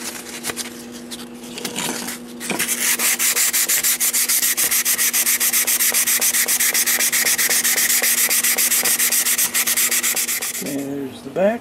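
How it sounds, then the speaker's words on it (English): Steady abrasive sanding of epoxy putty filler on a wooden cuckoo clock, a continuous close, loud rubbing scrape for most of the clip, ending with a brief pause. "All you do is sand it nice and smooth."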